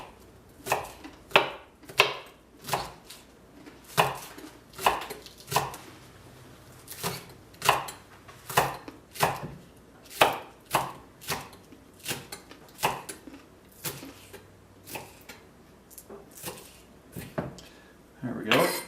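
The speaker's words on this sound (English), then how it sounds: "it's a half a cup of green onions, diced, small, so we'll just chop them up" A knife chops green onions on a cutting board for a pad Thai or fried rice dish, giving a steady run of sharp, close knocks of uneven spacing, with faint talk in the background at times.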